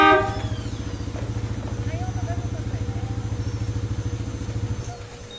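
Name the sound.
Bosch Europa horn honking on Honda ADV 150 motorcycle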